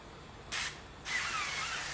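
Two hissing bursts from a pump spray bottle of olive oil, a short spritz followed by a longer, steady spray, close and fairly quiet.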